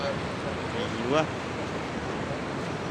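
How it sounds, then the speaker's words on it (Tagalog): Sea waves along the Jeddah Corniche give a steady broadband wash with a breezy rush, continuous and moderately loud, while faint voices are heard in the background. "Dito po yung dagat"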